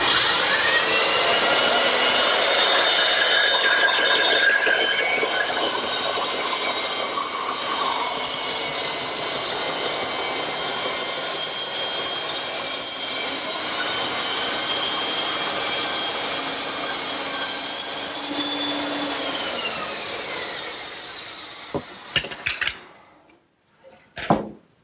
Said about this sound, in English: And then I'll turn the saw on, spin the blank,